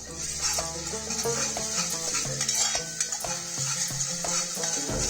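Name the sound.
stirring ginger-garlic paste with bay leaves, cardamom, cloves in pan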